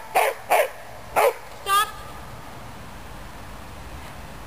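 A dog barks during an obedience training exercise: four short, sharp barks in quick succession at the start, then quiet background. A voice speaks briefly.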